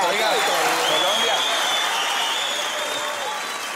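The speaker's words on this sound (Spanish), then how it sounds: "y un aplauso allá... para la reina" An audience applauds a pageant queen with a dense, steady wash of clapping that stays loud throughout and fades slightly at the end, with voices mixed in.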